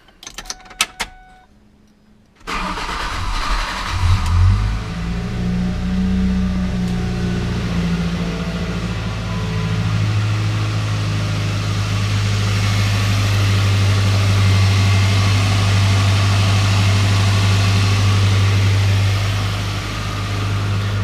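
A car with a newly broken-in aftermarket exhaust cranks briefly and catches, then settles into a steady, deep, loud idle that runs on evenly for nearly twenty seconds.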